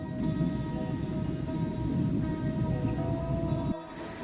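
Steady low rumble of a moving train, a dense continuous roar with faint tonal hum, cutting off abruptly near the end.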